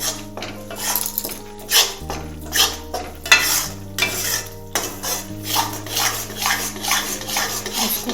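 Besan roasts in a pan for laddoos while a metal spoon scrapes and clinks against the pan in steady rhythmic strokes over a faint sizzle, with a low hum beneath.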